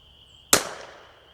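A single sharp precision rifle shot fired at an egg target outdoors, a loud crack with a lingering decaying tail against quiet background.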